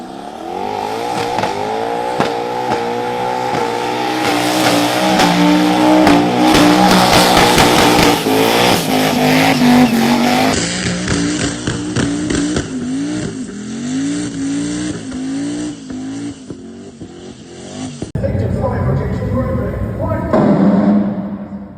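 A 2JZ-powered Holden at a burnout competition screams at high revs, the engine note rising and bouncing off the limiter in long loud bursts with tire noise, then cutting sharply to a quieter stretch before revving hard again.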